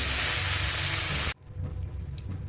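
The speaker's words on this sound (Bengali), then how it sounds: "লো ফ্লেম করে ঢাকা দিয়ে দিয়ে চিকেনটা খুব সুন্দর করে কষিয়ে নেবে" Chicken sautés on a low flame in a covered pan with a loud, dense, steady sizzle that cuts off abruptly halfway, leaving a quieter soft crackle.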